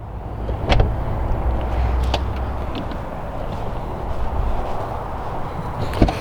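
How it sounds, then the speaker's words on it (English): The automatic door of a 2020 Tesla Model X Long Range Plus opens with a steady motor whir over outdoor ambience. A few clicks and knocks sound along the way, and no one talks. "the auto opening doors can sense if a vehicle is close by, so it won't ram open that up"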